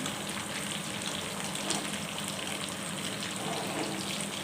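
Rava-coated fish fries in a pan with a steady, close hiss and crackle of hot oil as it is turned over, holding a constant level throughout with no voices.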